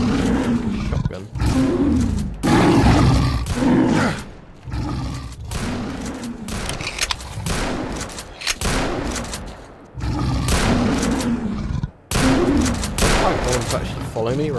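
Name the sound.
shotgun gunfire at a pseudo-giant in the video game Call of Chernobyl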